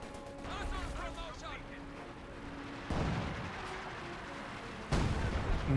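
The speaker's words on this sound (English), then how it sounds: "Throws incendiary grenade onto the intersection." Incendiary grenade blasts in Company of Heroes 2, with a sharp explosive burst followed by a second heavier hit, set among battle noise and rumble while a commentator talks over it.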